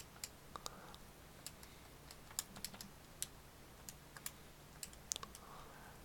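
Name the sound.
typing numbers on a calculator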